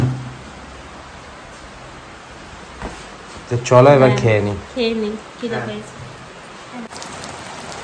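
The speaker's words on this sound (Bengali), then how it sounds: "পাহাড়ে ডেঞ্জারাস বৃষ্টি শুরু হয়ে গেছে আবার।" Heavy rain in the North Bengal hills falling as a steady, dense hiss of rain on surfaces, with people talking over it partway through.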